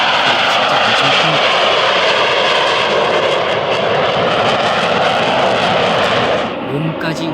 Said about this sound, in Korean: 갑자기 들려오는 엔진 소리, 전투기가 하늘로 올라갑니다.